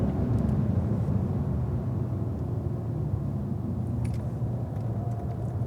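A Cadillac CTS-V accelerates on a race track, its engine a steady, loud low rumble that holds without a break from start to finish.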